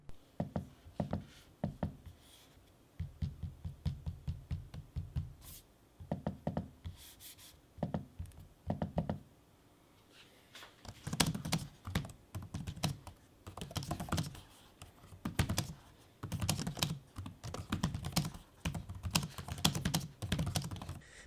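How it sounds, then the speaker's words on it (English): Close-up typing on an HP Omen 15 laptop keyboard in bursts of rapid soft clicks, with short pauses and occasional sharper trackpad clicks, no voices. "so you can listen to me typing and using the trackpad"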